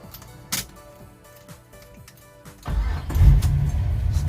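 A 1969 Chevy Nova coupe is cranked over with several quick starter whirs, then its high-performance engine catches and roars to life with a loud, deep rumbling rev settling toward idle, heard up close.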